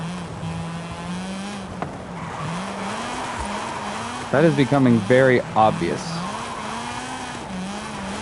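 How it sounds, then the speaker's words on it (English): Mazda RX-7 FD sliding in a Forza racing video game, with a steady engine drone and a burst of wavering tire squeal near the middle, heard under someone talking. "The FD just wants to slide around."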